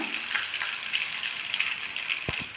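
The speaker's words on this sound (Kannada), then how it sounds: "ನೋಡಿ ಫ್ರೆಂಡ್ಸ್ ಈ ಥರ ಫ್ರೈ ಆಗ್ತಾ ಇದೆ ಮೆಣಸಿನ್ಕಾಯಿ ಬಜ್ಜಿ" Batter-dipped stuffed green chili bajji fry in hot oil with a fine, bubbling sizzle that crackles steadily up close, and two soft low thuds near the end; no one speaks.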